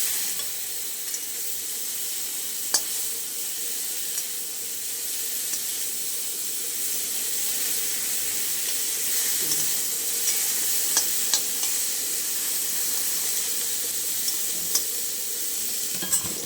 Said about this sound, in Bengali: বেগুনটাকে ভেজে নিই